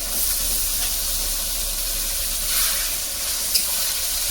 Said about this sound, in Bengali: রসুন বাটাটা আর পেঁয়াজটা একটু ভালো করে একটু লাল লাল করে ভেজে নিন।